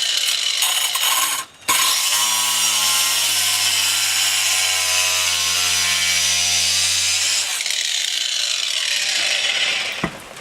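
Loud, continuous angle grinder cutting into tile and wood: a harsh, steady whine with a brief dip early on, then a sustained droning cut that eases off near the end.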